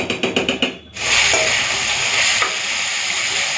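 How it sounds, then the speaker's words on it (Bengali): Potato and pointed gourd pieces frying in oil after an onion tempering, a few rhythmic scraping stirs followed by a loud, close, continuous sizzle. "এদিকে আলু আর কাঁকরোলটা যে কেটে রেখেছিলাম ওটাকে ভাজা বসিয়ে দিয়েছি।"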